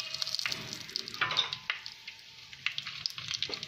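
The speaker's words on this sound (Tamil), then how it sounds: "பட்டை லவங்கம் கிராம்பு நல்லா பொரிஞ்சிடுச்சு" Cinnamon, cloves and cardamom crackle and sizzle in hot oil inside a clay pot for a chicken biryani, a steady close frying hiss with scattered pops and faint stirring.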